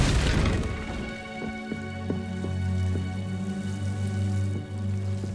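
A Confringo fire spell blasts in the Hogwarts Legacy video game, a loud burst at the start followed by booming, sustained tonal game effects and music-like drones with no talk.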